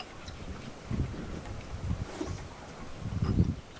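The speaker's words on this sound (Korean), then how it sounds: "바람 소리 저기 어떻게 들리니" Wind gusts across an open spot in a remote rural village, a soft rushing bed of noise that swells in a few low buffeting surges, with no voices.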